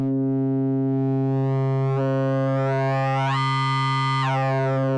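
A loud, sustained buzzy synthesizer tone whose upper harmonics sweep and brighten as a harmonics knob shifts the distortion frequency, swelling into a harsher distorted edge before settling back, with no talking.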